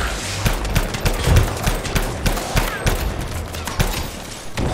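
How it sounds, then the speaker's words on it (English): Rapid repeated shots from a tactical rifle in the game Anthem, a steady run of loud, sharp cracks over rumbling background, close and dense, with no talk over it. "right now we're using a tactical rifle, so it doesn't fire super fast, but it tends to do good damage in the head"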